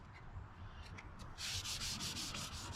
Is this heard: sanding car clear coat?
yes